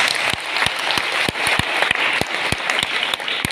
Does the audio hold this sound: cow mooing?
no